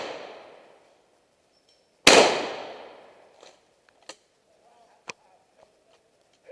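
A single loud shotgun shot rings out at a pheasant and partridge shoot, with a sharp attack and a long echoing decay, followed by a few faint distant clicks and pops.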